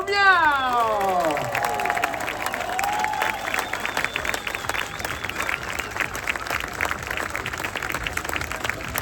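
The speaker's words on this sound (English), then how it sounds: "we're gonna need the biggest round of applause" A finish-line crowd at the Ultra-Trail Australia race bursts into dense, sustained applause and cheering after an announcer's fading call, the clapping continuing steadily to the end.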